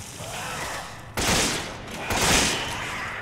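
Bursts of gunfire in the video game Resident Evil 5: a dense rattling volley that starts abruptly, pauses briefly, then resumes, loud and close, with no one speaking.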